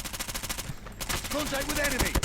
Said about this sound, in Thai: เสียงปืนแถวนี้